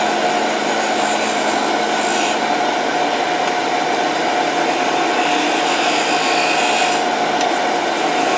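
A scraping tool cuts into wood spinning on a lathe while a ball box is turned, giving a loud, continuous rasping hiss over the motor's steady whine, with no talking.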